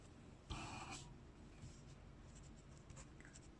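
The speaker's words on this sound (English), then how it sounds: "I'll just write it out." Pen or marker writing out the first-principles definition of differentiation in a calculus lesson, a short faint scratching burst near the start followed by quiet, sparse strokes with no talking.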